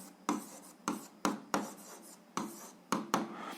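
Pen strokes on paper while a seventh-grade algebra solution is written out by hand, coming as about eight short scratchy bursts at an uneven pace, close and quiet, with no talking.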